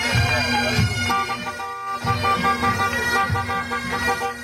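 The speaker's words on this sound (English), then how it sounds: "The cars in red and green, honking their horns, much like Castlebar right after the match" Cars decked in red and green honk their horns at a homecoming celebration after a football match, with repeated loud, overlapping blasts and sustained tones amid crowd noise and a bustling street atmosphere.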